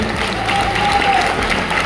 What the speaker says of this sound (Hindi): आप अपने लिए एक बार पूरे जोरदार तालियों से स्वागत करते हैं।